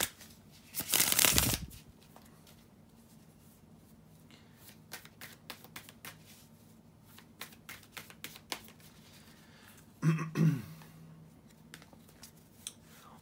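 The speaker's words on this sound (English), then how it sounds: "bear with me a second, guys, to shuffle the tarot cards" A deck of tarot cards is shuffled in two quick, papery riffle bursts, a longer one near the start and a shorter one later, close to the listener with quiet pauses between them.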